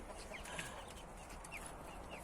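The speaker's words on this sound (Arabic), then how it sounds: "هو الدجاج كاين." Chickens cluck in a home garden, sharp calls rising at intervals over steady outdoor background noise, with no talking.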